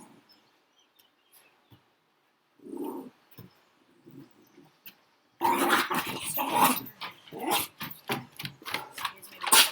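Dogs growl and grumble close by during a quiet yoga session, soft at first, then louder bursts of rough snarling and short barks.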